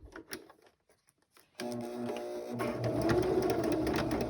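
Sewing machine stitching a denim seam with a size 16 needle and all-purpose polyester thread, starting after a quiet pause and running as a steady, close, continuous mechanical whir for about three seconds.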